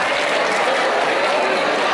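Students and teachers at a school Hindi Divas celebration applaud, a loud, dense burst of clapping that stays steady for two seconds.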